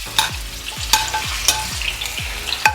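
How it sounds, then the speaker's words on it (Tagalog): Carrots and potatoes fry in a pan with a steady sizzle, broken by a rhythmic series of sharp scraping stirs about every half second, close and without voices. "Una kong ginagawa, guys, piniprito ko muna tong carrots and potatoes."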